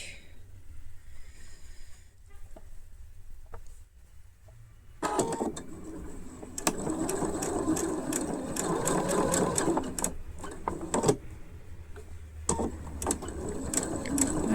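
A sewing machine stitches French seams on a child's flat-woven fabric dress, running in a loud close whirring burst after a quiet start, with brief stops and restarts.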